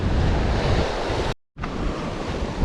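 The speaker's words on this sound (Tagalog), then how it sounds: "diyan natapunan ng alon si Master Adrian." Sea waves washing and splashing along a rocky shore near a cave, a loud continuous roar with wind buffeting the microphone, cut by a brief dropout midway.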